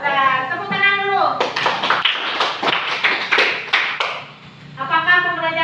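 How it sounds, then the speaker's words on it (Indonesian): A classroom of children claps hands together in a lively, rapid burst lasting about three seconds, loud and close, with a teacher's voice before and after. "Tepuk tangan dulu."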